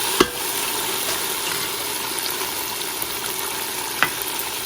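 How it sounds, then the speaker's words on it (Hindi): Beef karahi fries in a pan with a steady, close hiss of sizzling oil, broken by two brief clanks of a utensil against the pan, no voices. "अभी हम इसको भूनेंगे 5 से 6 मिनट"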